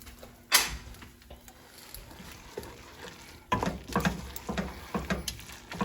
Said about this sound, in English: And then we stir in our powdered cheese.